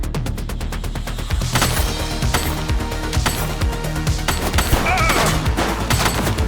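Dense, loud gunfire in a police action game, sharp repeated shots crackling over a busy combat mix with no pause, near and continuous.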